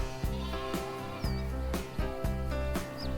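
Goats bleat a few times over steady, loud music that has a regular beat, in a children's toy farm story. The bleats are short and sit in the mix, not alone.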